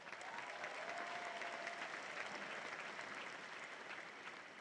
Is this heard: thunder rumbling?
no